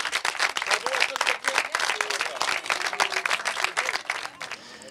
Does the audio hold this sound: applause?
yes